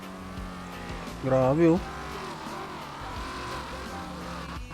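A sports car races in GTA 5 with a steady, droning engine roar, a short rising tire squeal partway through, and players talking over it.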